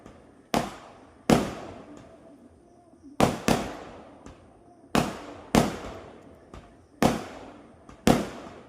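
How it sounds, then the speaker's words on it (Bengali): Wedding fireworks burst in a neighbourhood celebration: seven sharp, loud cracks arrive in irregular succession, some in quick pairs, each tailing off into a short echoing decay, with no talking. "দেখো কত বাজি ফাটছে"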